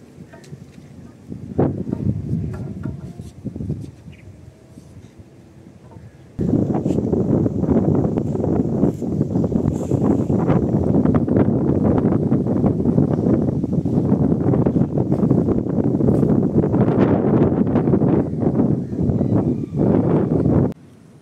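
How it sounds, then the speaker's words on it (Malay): A strong wind gusts across a lake during float fishing, first as a weaker buffeting and then as a loud, constant roar against the microphone for the rest of the clip. "Angin kuat sikit ni."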